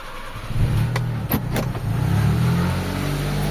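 A carbureted Nissan Sentra engine, its carburetor freshly adjusted, cranks with a few starter bursts and then settles into a steady, loud idle rumble close by.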